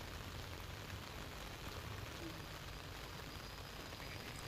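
Heavy rain falling steadily, a dense, even wash of patter with no breaks, recorded faint and distant and with no voices.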